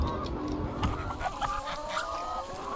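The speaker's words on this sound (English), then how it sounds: "200 chickens, ready to go home" A crowd of about 200 laying hens clucks and squawks close by, overlapping calls forming a busy, continuous chatter.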